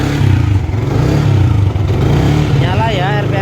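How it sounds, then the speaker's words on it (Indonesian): A 2012 motorcycle, still fully original, cranks on its electric starter and catches into a close, loud engine idle with mechanical clatter, while someone speaks over it. "Nah, starternya cesgreng ya."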